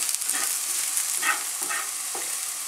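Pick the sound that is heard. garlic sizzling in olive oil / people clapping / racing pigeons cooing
garlic sizzling in olive oil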